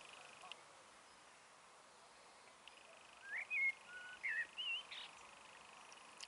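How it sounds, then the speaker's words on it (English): Several short bird chirps and whistled calls ring out in the second half against a steady, hissy outdoor background, some sitting a little nearer than others. "Listen to the birds."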